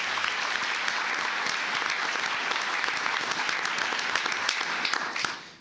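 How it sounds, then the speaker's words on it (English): A crowd at a county commissioners court meeting breaks into dense, sustained applause that holds steady for several seconds and then quickly fades out. "Let's give him a round of applause."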